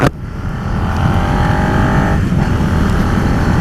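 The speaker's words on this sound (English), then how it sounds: "It lets you know that it's a twin, but they're not in any way obtrusive. It just sounds like a motorbike should sound" A 2018 Suzuki SV650 twin-cylinder motorcycle hums steadily while being ridden, a close, continuous low engine drone with wind rush, rising slightly in pitch before settling.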